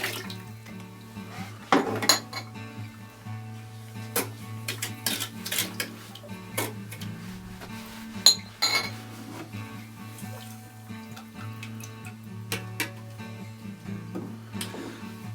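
Water trickling through a carbon filter unit into a mason jar, with irregular splashes, drips and small clinks scattered over a steady low hum, fairly close and with no talking.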